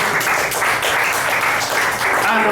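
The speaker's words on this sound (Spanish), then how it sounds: "Dale un aplauso al Señor." Steady, dense applause from a large church congregation, continuous and loud throughout, with a few cheers mixed in.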